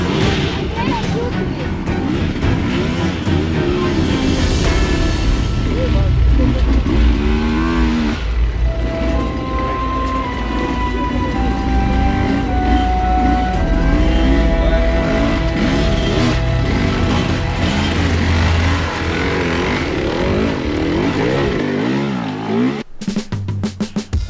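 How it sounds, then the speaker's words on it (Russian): An enduro motorcycle engine at the Red Bull Romaniacs race revs and strains on and off for over twenty seconds, loud and close, with background noise before an abrupt cutoff near the end. "Начинает толкать мотоцикл."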